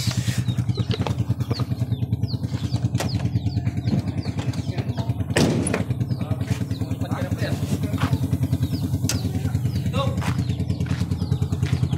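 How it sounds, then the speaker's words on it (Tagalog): A motorcycle engine with a fault runs close by in a steady, chugging idle for the full twelve seconds, with scattered clatter and light rattles over it and no clear cutout. "May problema to, nalulupat yung motor ko."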